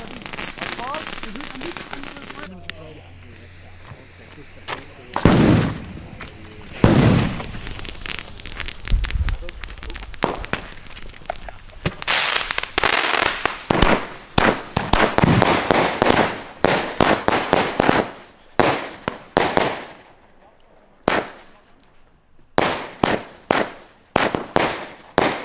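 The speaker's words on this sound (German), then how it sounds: "Jetzt haben wir die Batterie Aquila mit 16 Schuss." Weco Aquila 16-shot firework battery firing, a rapid series of sharp loud bangs and crackling bursts, irregular at first then in quick successive volleys, close and powerful with voices in between.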